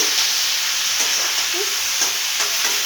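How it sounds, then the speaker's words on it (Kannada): Sliced tomatoes fry in oil for tomato chitranna, a continuous close hissing sizzle with faint scraping stir strokes breaking through every second or so. "ಟೊಮೊಟೊ ಈಗ ಒಂದು 5 ನಿಮಿಷ ಇದು ಎಣ್ಣೆಲಿ ಮಾಡಿಬಿಟ್ಟು ಚೆನ್ನಾಗಿ ಫ್ರೈ ಆಗಲಿ."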